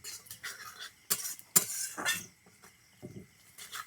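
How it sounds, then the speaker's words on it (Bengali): Onions fry in a pan while a utensil stirs and scrapes against the metal, producing several sharp clinks and scrapes over a quiet sizzle, close up and without voices. "এদিকে পেঁয়াজটা বেশ সুন্দর করে ভেজে নিতে হবে"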